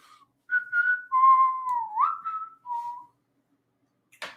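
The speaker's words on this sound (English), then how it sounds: "A little bit of whistling" A person whistles a short, wandering melody with a few held notes and slides, alone and fairly close, followed by a brief noisy burst at the end.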